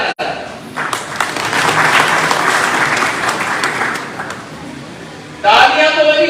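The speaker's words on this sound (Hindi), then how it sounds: "तालियां तो बनी" Applause from a crowd at a BJP election rally in Mulbagal, Kolar, a sustained wash of clapping lasting several seconds, with a louder burst near the end.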